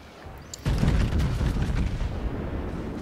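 Battleship main guns firing in a naval warfare video game, a sudden loud booming salvo followed by rolling rumble and echoing blasts that linger under the engagement.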